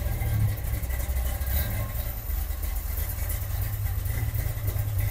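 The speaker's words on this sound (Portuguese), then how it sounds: "E essa marcha lenta..." A classic V8 fitted with a 650 CFM Quadrajet carburetor idles at a car show, a loud, close, rumbling low throb with an even, slightly lumpy pulse and no talk over it.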